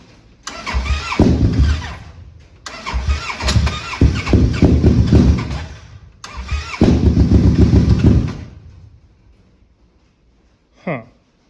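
An ATV engine cranks in three long, labored bursts separated by short pauses, sputtering and struggling without settling into a steady idle, loud and close, then a brief faint sound after silence.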